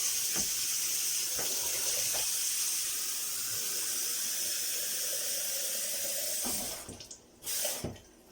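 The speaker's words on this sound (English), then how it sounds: "So I'm gonna use some cold water, all right, from the tap." Cold tap water runs steadily into a bowl for soaking mung beans with a close, hissing splash, then cuts off near the end with a couple of knocks.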